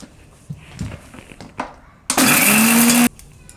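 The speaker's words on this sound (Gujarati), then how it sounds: "તો આને આપણે પીસી લેવું પહેલાં મોટી જારમાં." A mixer grinder's large jar grinding dried drumstick leaves into powder: a few thumps and clatters of the jar being set up, then a loud, close motor whine and rattle for about a second before it cuts off.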